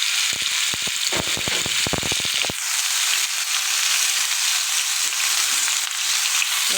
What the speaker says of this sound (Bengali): শুকনো লঙ্কা 4টে এবং 5 ফোড়ন গরম তেলে দিলাম